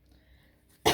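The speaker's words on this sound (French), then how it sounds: "Je tousse encore un peu" A single sharp, close cough bursts out at the end after near silence.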